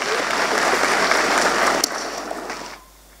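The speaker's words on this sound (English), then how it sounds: "Let's give a round of applause for the Vice-Chancellor." Loud, dense applause from a graduation audience honoring the Vice-Chancellor at a university ceremony, sustained for nearly two seconds before thinning out and stopping abruptly.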